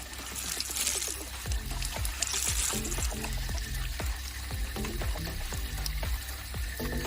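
A water pump draws up water, giving a steady wet gurgle and splashing trickle with repeated irregular knocks and drips, close and moderately loud with no talk.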